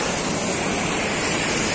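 Bhatinda Falls waterfall pours in a steady, loud, broadband roar that fills the whole moment without pause, close by and with no voices.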